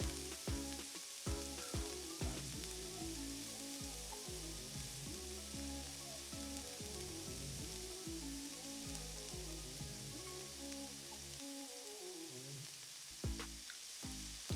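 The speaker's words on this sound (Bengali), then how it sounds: "আমাদের চিংড়ি মাছগুলি একদিক ভাজা হয়ে এসছে।" Quiet, continuous sizzle of prawns frying in oil in a pan for chilli prawns, with irregular spitting pops and no talking.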